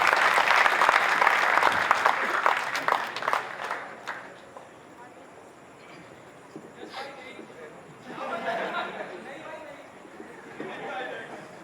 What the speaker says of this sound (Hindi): तालियां बजा दो भाई यस भाई के लिए।